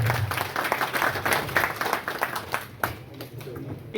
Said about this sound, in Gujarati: તાળીઓના ગડગડાટથી વધાવી લઈએ